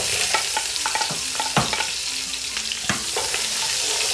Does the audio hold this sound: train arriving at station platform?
no